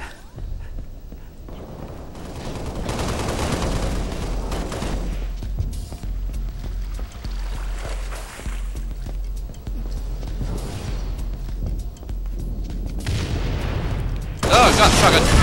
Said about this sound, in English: Oh god, shotgun. Rocket launcher